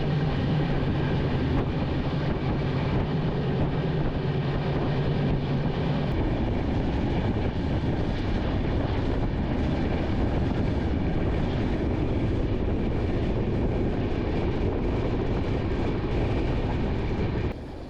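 Train running from Visakhapatnam up into the hills toward Araku Valley, a steady loud rumble of carriages and track noise heard from inside, continuous throughout with no talking.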